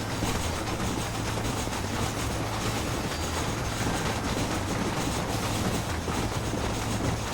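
A steam train running in the Red Dead Redemption video game, a loud, dense, continuous rumble and rattle with rhythmic clickety-clack, steady throughout with no voices.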